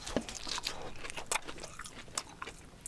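Someone chewing a hamburger-shaped gummy jelly close to the mic, with soft squishy bites and sticky crunching chews repeating irregularly, heard alone without talk.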